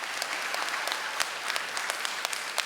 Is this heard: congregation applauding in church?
yes